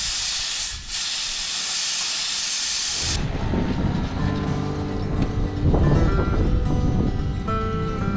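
Air hisses steadily out of 4WD tyres as the pressure is lowered for an off-road track on Cape York, a loud continuous rush that cuts off after about three seconds and gives way to a busier mix of rumbling and clatter.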